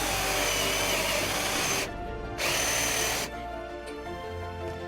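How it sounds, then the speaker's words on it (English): A power drill drives screws up into the bottom of a Westbury ADA continuous handrail during installation, a loud close whirring whine in two bursts broken by a short pause, then a quieter tail. "we're going to install the 2 screws coming up from the bottom here."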